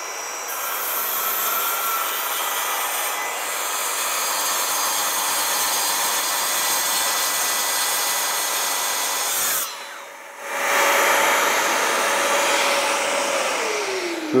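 Plunge circular saw cutting through wood, a loud, steady high-pitched whine sustained through the cut, then a brief dip and a sharper surge as the blade exits and spins down.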